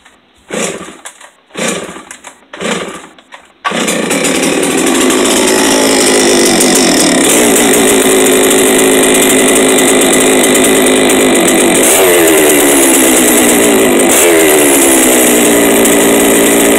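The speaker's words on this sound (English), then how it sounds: "We'll fire the saw if it'll fire, and the drum moving." A chainsaw is pulled a few times, then catches and runs at a loud, steady high-revving drone with occasional revs, close up, with no talk.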